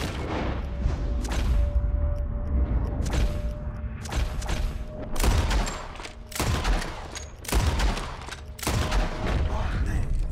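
Rapid gunfire in the Western video game Red Dead Redemption as players shoot at flying birds, a string of loud, sharp shots in irregular bursts, some close together, over a constant game background hum.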